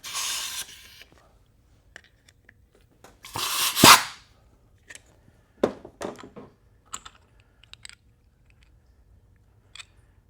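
Compressed air blows out a piston on a 4L60e automatic transmission during teardown in two sharp, loud hissing blasts close by. Scattered small clicks and clinks of handled parts follow in a quiet workshop.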